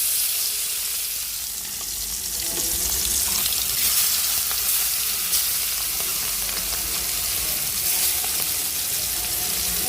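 Chicken pieces fry in a pan with a loud, continuous, close sizzle and crackle, swelling slightly after the first couple of seconds, with faint stirring underneath.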